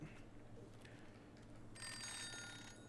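In the Wanderstop video game, a soft ringing tone comes in partway through and holds as a bright, steady trill over faint ambient background.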